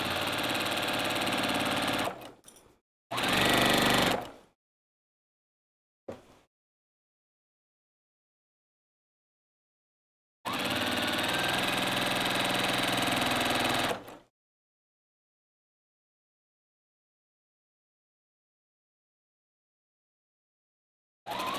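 A home sewing machine runs a pillowcase seam in short, close bursts, a couple of quick runs early on, then a longer steady stretch of stitching, separated by silent pauses.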